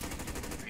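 A sniper rifle shot in Call of Duty Warzone, a single loud, sharp crack with a brief rumbling tail, close and filling the short moment.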